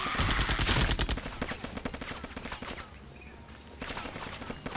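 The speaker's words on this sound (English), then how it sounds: "Oh, shotgun." Shotgun gunfire in the video game ShellShock 2, loud blasts clustered early with more scattered, quieter shots and clatter following, and a high steady tone running underneath.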